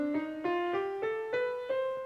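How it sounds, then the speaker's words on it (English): Several sustained pitched notes step upward one after another in a steady rhythm, sounding a minor scale played on a single instrument, clear and close with no talking. "so that the minor scale sounds like this."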